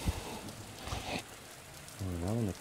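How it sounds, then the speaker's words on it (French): Rain falls steadily outside during indoor filter work, a soft continuous patter, and a voice hums briefly near the end. "et ben il pleut dehors, hein."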